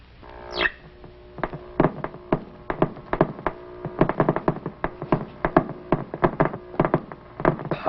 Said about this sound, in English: What you are hearing are actual cosmic ray bullets.